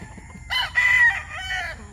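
Young roosters (stags) at a gamefowl farm crow and cluck close by, with one strained, broken crow that trails into a softer call over a quiet background.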